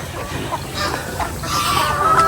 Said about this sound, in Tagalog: Manok, pabo, gansa. Pinakain lang namin ng mais kanina.